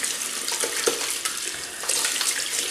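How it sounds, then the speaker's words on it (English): Hands being rinsed under a running tap after a shave with Arko shaving soap, a steady close splash of water with brief shifts as the hands move through the stream. "I'll just rinse my hands."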